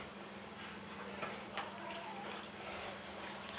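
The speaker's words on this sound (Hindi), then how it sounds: "इसमें दोस्तों गर्म पानी आ रहा" Hot water runs steadily from the tap of a gas geyser, a faint, even hiss of flowing water with a low background hum and no talk.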